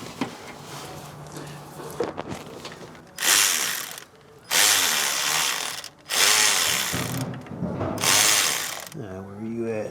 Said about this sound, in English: I'm going to try and get down there with my long neck electric ratchet and see can I get on it.